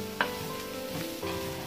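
Pork sautéing without added oil in a Salad Master electric skillet, a low continuous sizzle close by, with a short scrape or stir near the start and another toward the end, no talking.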